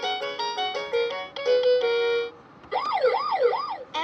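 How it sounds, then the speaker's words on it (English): Electronic ambulance siren from a toy steering wheel: a rapid warbling tone pattern, a brief pause, then a swooping wail, loud and close with no talk. "The ambulance is on the way to help."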